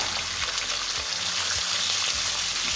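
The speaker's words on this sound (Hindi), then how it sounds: "अब हम इसके अंदर गोश्त डाल देंगे सारा।" Meat sizzling loudly in a pan of fried whole garam masala for a badami korma, a steady dense hiss and crackle that runs the whole time with no talk.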